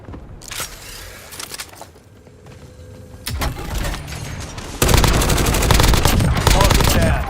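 Call of Duty ranked multiplayer gunfire: bursts of automatic weapon fire that grow louder and denser toward the end, with voice chatter from squad callouts mixed in.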